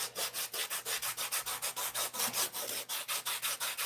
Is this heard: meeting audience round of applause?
no